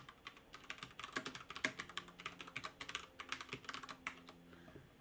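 Someone types on a computer keyboard, producing rapid, irregular clusters of crisp key clicks up close, with short pauses between bursts and no talking.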